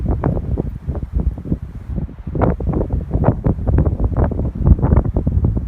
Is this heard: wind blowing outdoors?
yes